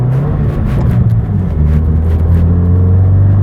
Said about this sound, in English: So I'm in the throttle hard, and it ran good, and we pulled up towards 18 psi on the gauge.